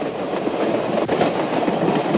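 A train runs steadily along rails, its broad rumble and wheel noise loud and continuous from start to finish with no talk over it.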